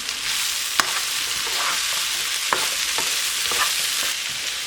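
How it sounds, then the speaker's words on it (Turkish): Vegetables, meat and mushrooms sauté in a pan with a loud, steady close sizzle, broken by a few sharp clicks and scrapes from stirring. "Şimdi sebzelerimizi etimizle soteledik."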